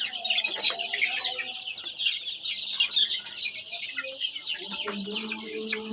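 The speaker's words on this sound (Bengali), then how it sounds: "এক 1000 পিস ফার্মি মুরগি আজকে পাঠাই দেব কুমিল্লা ফেনী" Broiler chickens at a poultry seller's cluck and squawk continuously, a busy flock close by with overlapping calls and bright chirps throughout.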